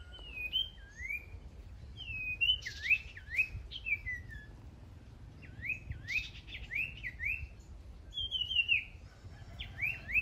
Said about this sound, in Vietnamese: Nè cho anh em xem con chèn này nó hót nè.